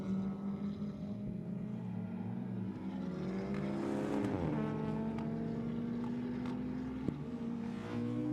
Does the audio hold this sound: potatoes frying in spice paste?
no